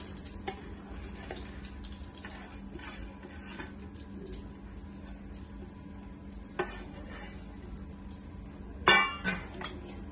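Soaked rice tipped into a heated pan for homemade puffed rice, a quiet patter and clink of utensils against the pan, with a sharper metallic scrape near the end.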